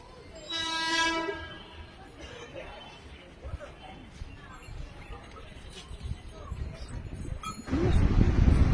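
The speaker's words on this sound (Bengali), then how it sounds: "দেখতে পাচ্ছ, ট্রেন চলে এসেছে।" A train pulls in at a station on the way to Chakdah, opening with a loud, clear horn blast and followed by a rising, rumbling roar of wheels and carriages. Background voices and bustle run underneath.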